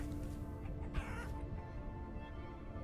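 Chickens cluck softly in the Vintage Story video game, a few short clucks over a steady hum of ambient game noise, faint and alone without speech.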